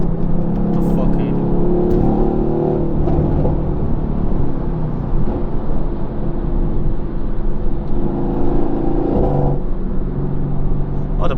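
Several Mercedes-AMG C63 S cars cruising through London, heard from inside one as a loud, continuous deep engine drone with rising revs and passing swells, with occasional talk over it.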